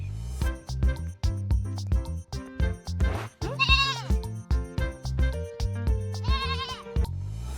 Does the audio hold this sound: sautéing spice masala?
no